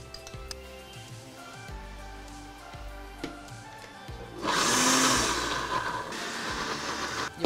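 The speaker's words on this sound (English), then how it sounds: "throw everything into a blender or a food processor" A blender whirs loudly for a few seconds blending a jerk marinade, running steady and then easing off, with some clattering kitchen noise before it starts.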